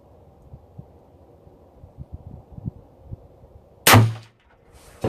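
A single sharp rifle shot cracks loudly during a barrel heating test at the range, a bright sudden report with a brief ringing decay, preceded by quiet faint ticking and handling sounds and followed by a short trailing noise.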